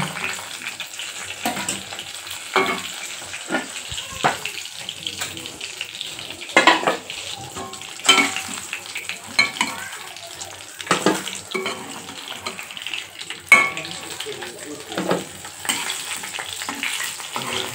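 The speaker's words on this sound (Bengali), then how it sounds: "এই মাছ ভাজার তেলেতেই আমি ফুলকপিগুলো ভেজে নেব।" Cauliflower frying in oil left over from frying katla fish, a steady close sizzle and crackle with soft stirring scrapes and occasional louder pops, no voices.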